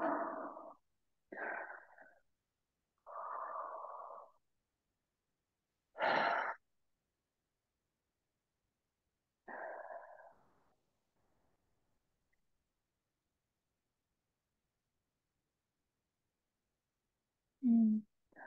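Deep, audible breaths drawn and released during a healing session, several slow sighing inhales and exhales with long quiet pauses between them, close to the microphone, ending with a sharper breath.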